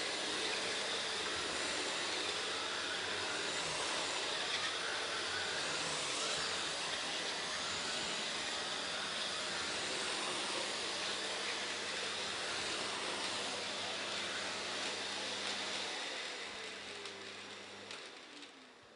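A Bosch Animal vacuum cleaner roars steadily at maximum power, a loud, even broadband whoosh with a constant motor hum that holds for most of the stretch before tapering slightly near the end.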